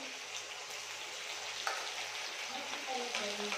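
Sliced onion, bitter gourd and potato frying in hot oil in a pan give off a steady, close sizzle with scattered small pops throughout.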